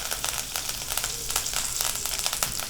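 Garlic and curry leaves sizzle in hot oil for tempering, a steady crackling fry with scattered pops throughout, close and fairly loud with no voices.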